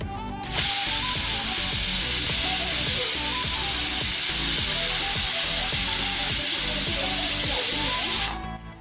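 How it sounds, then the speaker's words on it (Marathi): Rice boils hard in a covered pot, a steady loud hissing, bubbling roar with rapid churning pulses that runs without a break, then stops abruptly. "भात चांगला उकळेपर्यंत थोडं झाकण ठेवूया"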